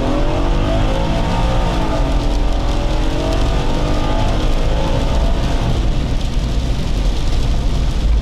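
An Audi S6 C5 with a 4.2 V8 drives steadily, its engine a continuous low drone with a slight rise and fall in pitch, heard from inside the car, loud and unbroken, without talking.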